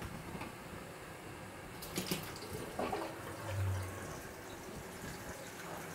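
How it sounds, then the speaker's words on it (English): Tap water runs from a kitchen faucet through a plate chiller used for home-brewing beer, a steady broad rushing wash with a few small clatters and a low thump, moderately quiet and alone. "I just hooked up this plate chiller to my faucet so I can run water through it at the same time."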